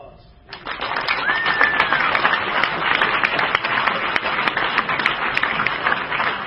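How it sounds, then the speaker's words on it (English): An audience at an architecture awards dinner for tall buildings breaks into sustained applause, dense even clapping that swells quickly and holds, with a faint whistle or cheer near the start. "How about a round of applause?"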